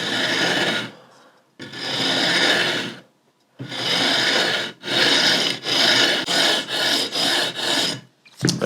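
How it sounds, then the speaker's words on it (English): Guitar fret ends are sanded with a leveling beam in loud, close, rasping strokes. Long passes with pauses give way to a quicker run of shorter back-and-forth strokes. "So I'm just gonna use the leveling beam."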